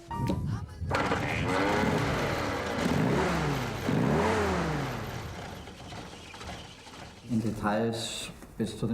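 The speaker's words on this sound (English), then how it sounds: "A long 4-stroke engine runs under the hood of the classic Jeep." A Willys 2.2-liter side-valve four-stroke engine in a classic Jeep runs and revs up and down in rising and falling sweeps, fairly loud and close, with a voice talking over it.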